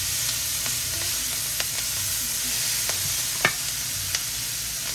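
Beef, peppers and onion stir fry in a pan with butter, a steady close sizzle with occasional scraping and clinks of a utensil stirring, no voices.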